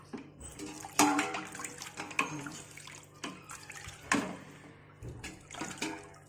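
Water is poured and splashed in uneven bursts over boiled chicken sitting in ice water, giving several sharp splashes between quieter trickles.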